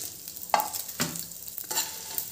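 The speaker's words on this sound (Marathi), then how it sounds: "हे बोंबीलचे तुकडे करून घेतलेले आहेत, ते आपल्याला तेलामध्ये फ्राय करून घ्यायचे" Bombay duck (bombil) fish pieces fry in oil in a kadhai, giving a soft sizzle broken by a few sharp scraping stirs and clinks, close by, with no talking.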